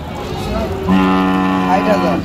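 A single cow lets out a drawn-out, nasal moo nearby at a cattle market with Sahiwal bulls, rising clearly over faint background murmur.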